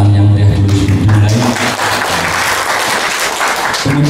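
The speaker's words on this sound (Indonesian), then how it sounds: "Tepuk tangan yang meriah dulu dimulai." Applause from an audience at a government meeting in Magetan on preventing illegal levies, with loud clapping spreading under a droning hum and a lingering voice at the start.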